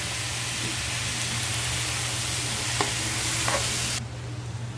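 Onions and tomatoes sauté in a pan while sinigang is being cooked, a close, continuous sizzle with occasional stirring clatters that falls quieter near the end.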